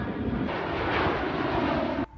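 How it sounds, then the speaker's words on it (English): An airplane engine roars steadily overhead above a golf course in Muscat, Oman, a loud broadband rumble that holds for about two seconds before cutting off abruptly. "you get plane after plane after plane running along the first 4 holes"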